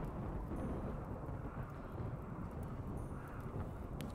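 Steady rain with low rumbling thunder plays in the video game Rimworld, a dense, continuous wash of rainfall and deep rolling noise at low volume with no talking.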